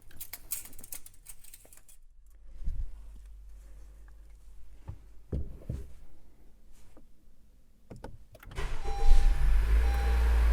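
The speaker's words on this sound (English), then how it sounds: "So we'll go ahead and start it." A 2018 Honda CR-V with the 1.5-liter turbo engine starts up after an oil change, with scattered clicks and a dashboard chime before the starter catches and the engine fires into a loud, close idle near the end.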